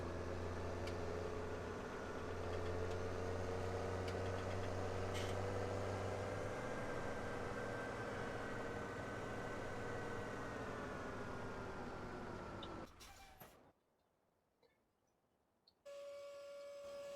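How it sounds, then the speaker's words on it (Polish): A tractor engine in Farming Simulator 17 drones at a steady, humming idle as it drives off, its pitch shifting slightly, before the sound cuts out abruptly to near silence and a faint tone returns. "Odjedziemy sobie tym traktorkiem, nie jest nam już potrzebny."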